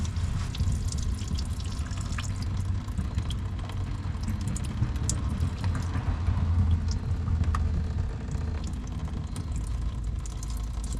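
Diesel fuel draining steadily from the drain valve on a CAT fuel filter of a Powerstroke diesel, a continuous close trickling and dripping of liquid with a low rumble underneath and no talk.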